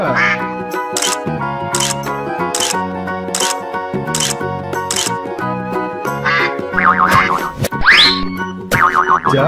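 A duck toy quacks repeatedly in a regular rhythm, loud and close, over a bright musical backing with springy boing effects.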